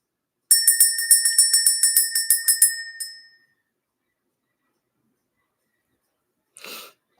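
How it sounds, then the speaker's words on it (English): A small bell is rung repeatedly in a rapid series of bright, clear strikes that stop and leave one final ring trailing off into silence, followed by a short soft breathy sound several seconds later. "Let's ring the bell."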